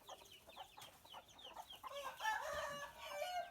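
Several chickens cluck and a rooster crows nearby on a fighting-cock farm, with overlapping calls from the flock in an open outdoor setting.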